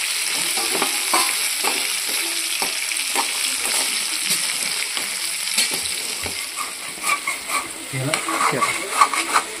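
Crab masala sizzles and fries in a pan while being stirred, with a steady bright hiss and repeated scraping clinks of the spoon, close and fairly loud throughout.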